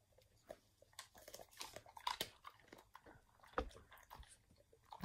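A dog gnaws on a chew stick nearby, giving irregular crunchy bites and chewing clicks spread across the clip, with soft background noise and no talk.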